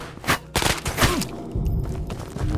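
Gunfire in the video game Ghosts of Tabor: several close, loud shots in quick bursts, sharp cracks with booming tails, followed by a fainter rattling exchange.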